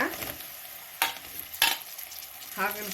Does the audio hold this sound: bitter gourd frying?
yes